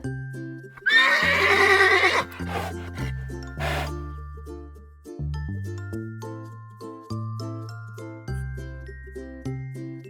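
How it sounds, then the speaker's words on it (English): A horse neighs loudly and close in a long, quavering whinny, followed by a bright, plinking melody of bell-like tones that carries on alone. "Horse."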